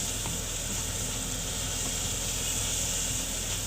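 Spice paste with ground coriander and cumin sizzles steadily in a hot pan as it is sautéed for a taro curry, a dense, even, close hiss running throughout without pause or voices.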